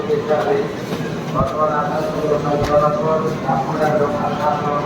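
Low rumbling hum of a Howrah–Guwahati train standing at a station platform, with busy station ambience and people talking throughout.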